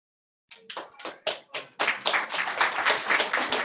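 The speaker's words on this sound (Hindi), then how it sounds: "जोरदार तालियां खुदा के नाम के लिए।" Clapping at a church service, starting as a few separate sharp claps before swelling into sustained applause from the congregation, fairly close.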